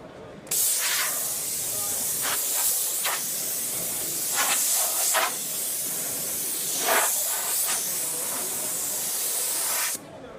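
A Stat Gun anti-static air gun blows a steady, loud hiss for about ten seconds, with pulsing surges of rushing air and cutting off sharply at the end.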